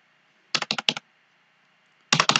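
Fingers tap out code on a computer keyboard in two short bursts of quick, crisp keystrokes with a quiet pause between them, close and clear, with no voices.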